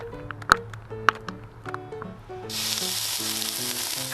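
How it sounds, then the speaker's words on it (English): Lava pours onto a steak and sets off a strong hissing sizzle that swells after a few seconds. Sharp clicks and a tonal hum come before it, all close by. "Is that lava on a steak?"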